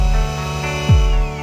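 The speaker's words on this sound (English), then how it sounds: "drill the holes" A power drill bores holes into a wall for the mounting plate of a Grohe Euphoria SmartControl 310 shower system, giving a steady, loud motor whine with a brief pitch dip partway through.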